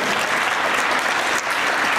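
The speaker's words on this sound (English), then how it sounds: "Let's give Dennis a round of applause" A forum audience at a leadership event applauds a participant named Dennis, a dense, steady wash of clapping from many hands that holds at an even level throughout, with no clear voices over it.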